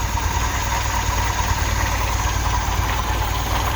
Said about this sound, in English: we're just going to let it run till it warms up, and then I'm just going to adjust the idle